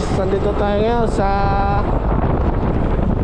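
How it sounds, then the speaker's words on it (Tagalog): Strong roadside wind buffets the microphone in a constant loud rumble beside a busy road, with a person talking over it at the start. "So mahangin."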